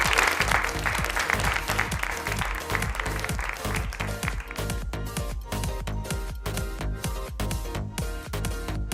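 An audience at a mega textile fair claps loudly and continuously during an honouring ceremony, the dense applause joined by a rhythmic music beat, with the crowd noise thinning slightly toward the end.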